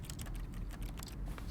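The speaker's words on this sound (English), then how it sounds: "I'm typing on my computer." Brisk keystrokes on an office computer keyboard in The Stanley Parable, close and clear, a continuous irregular patter of clicks with no speech.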